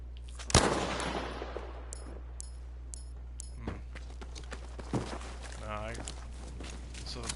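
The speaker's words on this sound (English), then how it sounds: "I don't know why it's firing a shot either" A single sharp gunshot in Battlefield V Firestorm cracks out near the start, followed by quieter in-game clatter, footsteps and scattered small impacts, with a faint metallic ringing later on.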